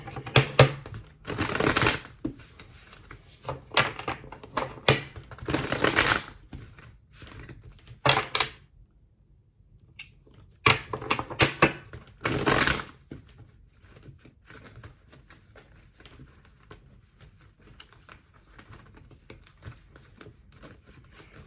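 Tarot cards being gathered and shuffled by hand, a series of close, crisp riffling and slapping bursts separated by quiet pauses, with a gap in the middle before more bursts.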